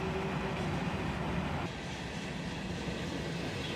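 A freight train hauling air slide covered hopper cars rolls past steadily, a continuous rumbling roar of wheels on rails with no break.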